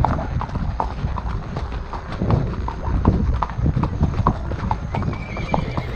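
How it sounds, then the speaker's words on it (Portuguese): A horse walking with a steady clip-clop of hooves close by, over a continuous rough background noise and a faint high whine. "Só o cavalo."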